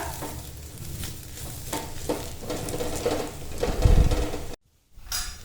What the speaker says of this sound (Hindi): अब इसको लगातार चलाते हुए 2 मिनट के लिए फ्राई कर लेते हैं मसाले के साथ